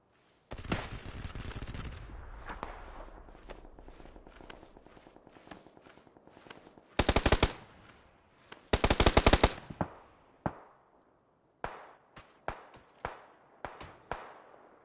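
Video game gunfire in PUBG: a loud burst of automatic fire opens, then dense rapid volleys mid-clip, followed by scattered single shots and short bursts with footsteps between them.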